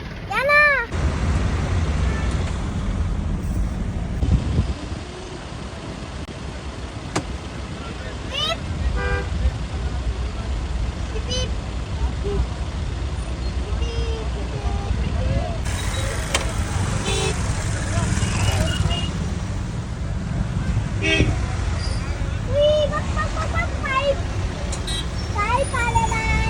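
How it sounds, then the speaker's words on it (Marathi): Cars and heavy vehicles stand in a roadside traffic jam, with repeated loud horn toots near the start and again later over a constant engine rumble while people talk throughout. "बॅक साईडला पूर्ण ट्रॅफिक जाम आहे, ट्रॅफिक आणि पुढे पण ट्रॅफिक जाम आहे"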